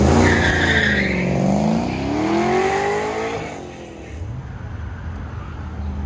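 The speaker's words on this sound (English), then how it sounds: "Eric Sheely in the 72 Sheely Collection Corvette" A 1972 Corvette running an autocross course at a Goodguys event, its engine revving and sweeping up and down with tires squealing through turns, loud and then fading as it moves away, no talking.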